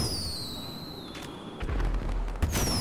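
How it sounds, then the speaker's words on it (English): Fireworks going off in a neighborhood during a video game, whistling rockets rising followed by crackling bursts and booms at moderate distance, with no voices. "people normally light off fireworks in your neighborhood?"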